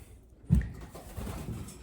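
A racing pigeon in a stock loft gives a single low, close coo, with soft faint loft noise around it.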